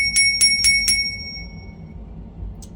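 Four quick, bright dings from a cheap little bell fitted to a Vevor trike ring close together in the first second, then fade into near silence.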